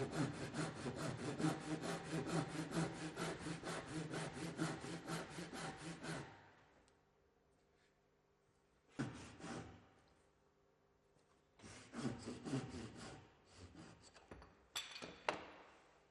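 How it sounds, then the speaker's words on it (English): A fine-toothed hand saw cuts along the line of a timber splice joint, first a rapid run of rasping back-and-forth strokes, then a pause and a few shorter bursts of sawing, close and fairly quiet. "a fine-toothed saw can be used to cut along the line of the joints to eliminate any minor gaps"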